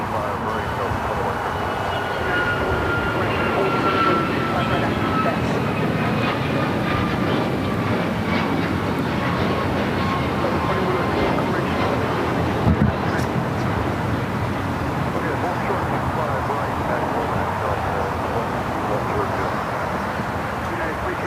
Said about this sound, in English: That takeoff was United Airlines 2667 taking off to Washington Dulles